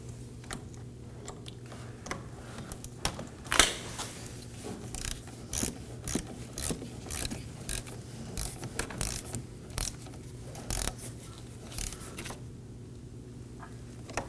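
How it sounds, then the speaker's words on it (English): A ratchet snugging down the 10mm nut on the negative battery terminal of a 2020 Toyota Corolla, a steady run of quick, close clicking strokes in short bursts, quiet and without talk. "resecure our negative battery terminal, slide it over the post, and snug down the 10mm nut"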